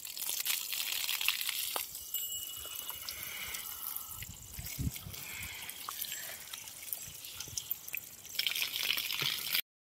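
Water is sprayed and splashes while a cow is washed outdoors under a cloudy sky, an uneven, fairly quiet patter and dribble with scattered drips and a few heavier splashes.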